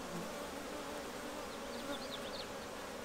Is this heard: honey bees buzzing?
yes